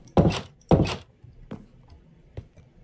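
A door is placed while building in a video game, giving two loud, close wooden thunks followed by two fainter knocks at uneven intervals.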